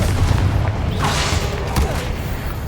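Booming blasts from the Confringo explosion spell in Hogwarts Legacy, loud low-heavy impacts with crackling bursts over busy combat noise, sustained through the moment.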